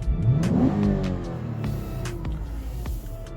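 A 2015 Lexus GS 350 F-Sport engine revs up sharply nearby, the pitch climbing and then settling, with a few faint clicks over the motor.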